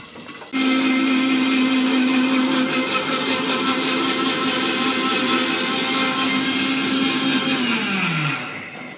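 Mixer grinder grinding tomato, onion, green chilli, ginger and garlic into a paste, a steady loud whirring drone that starts abruptly, runs continuously, then winds down at the end.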